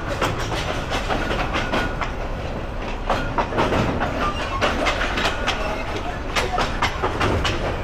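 A slow Ramna Bazar local train runs along in Bangladesh, its wheels beating a close, continuous clickety-clack of repeated sharp knocks over a rattling rumble.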